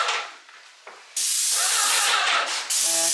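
Loud, steady hiss of aerosol spray paint, starting after a quieter opening and continuing in long sustained bursts close to the microphone.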